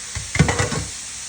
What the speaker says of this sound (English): And our bacon, and we'll let that fry.